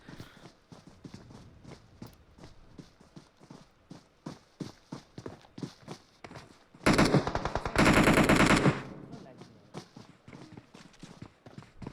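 Sustained automatic gunfire bursts loudly in a PUBG Mobile match, dense rapid shots over several seconds amid lighter rhythmic footsteps and clicks before and after.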